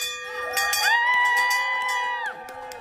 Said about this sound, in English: the team finally ringing the bell to signal the end of chemo